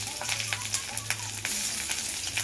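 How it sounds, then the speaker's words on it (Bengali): Chopped onions and green chillies sizzle steadily in hot oil in a pan, a dense continuous crackle with a low hum beneath and brief scraping taps throughout. "এখন কেটে রাখা পেঁয়াজগুলো আমি পেঁয়াজ আর লঙ্কা দিয়ে দেবো।"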